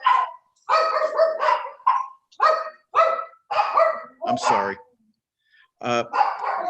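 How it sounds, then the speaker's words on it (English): A dog barks repeatedly at close range, loud sharp bursts in an uneven rhythm with short pauses, while a person briefly speaks in between. "Excuse my dog."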